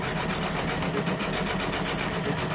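An embroidery machine stitching a stained glass design for a Christmas stocking runs with a steady, even mechanical whir and rapid needle chatter, continuous and fairly close with no pauses.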